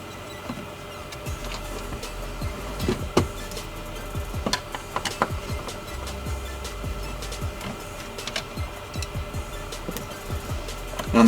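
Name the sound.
removing screws from a car climate control unit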